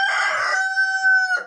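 A rooster crows once nearby, loud and clear, its drawn-out cock-a-doodle-doo holding a steady pitch before breaking off at the end, with no talk.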